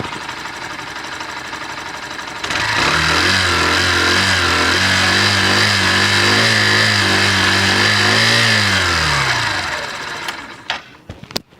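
A Honda Shine DX 100cc motorcycle engine starts and idles steadily with a loud, even puttering thump for several seconds, then shuts off with a few clicks.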